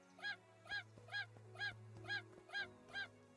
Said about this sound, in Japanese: ニワトリだよ、ニワトリ。